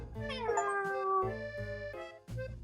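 A cartoon cat in the hidden-object game Cats Hidden in Paris meows several times, drawn-out tonal mews with a brief pause before a final short one, clear and close and heard alone.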